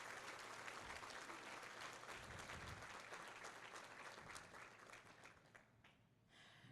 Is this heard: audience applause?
yes